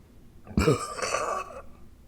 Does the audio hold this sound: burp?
yes